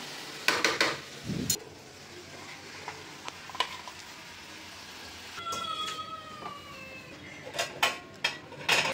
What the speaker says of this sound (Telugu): ఫ్రై చేస్తున్నా మా బుడ్డోడి కోసం